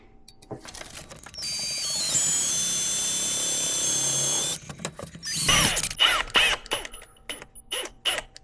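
Power driver driving screws under a vehicle's hood during an on-board charger install, with one long steady whir, then a short burst and a series of rattling clicks and knocks nearby.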